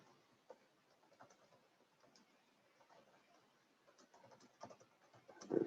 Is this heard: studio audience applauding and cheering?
no